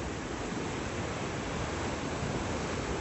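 Ocean surf at Santa Monica Pier forms a steady, broad roar of waves, constant and moderately loud, with wind noise mixed in and no talk.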